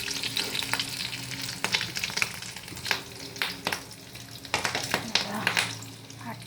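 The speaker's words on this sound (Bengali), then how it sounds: "দেখতে পাচ্ছ বন্ধুরা এরকম ফাটছে ফটফট ফটফট করে" Fish roe frying in a hot pan for a curry, popping and crackling in sharp irregular bursts over a steady close sizzle, with faint background noise.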